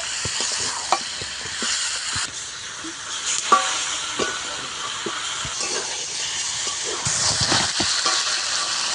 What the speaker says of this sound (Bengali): মাংস কষাতে কষাতে তেল ছাড়া শুরু করে দিয়েছে মাংস থেকে